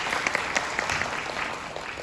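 Brief audience applause at a Korean cultural forum welcoming a speaker, a faint, steady patter of clapping filling the short moment with little else over it.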